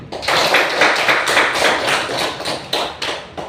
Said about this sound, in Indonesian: Tepuk tangan untuk Osin dengan Devin.